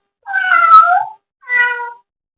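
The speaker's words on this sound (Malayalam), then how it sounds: "പൂച്ചയുടെ ആ ശബ്ദം നമുക്കിവിടെ കാണാൻ സാധിക്കുകയും" A cat meowing from Google's animated animal search feature: two clear, close meows, a longer drawn-out one followed after a short pause by a shorter one, with nothing else in the background.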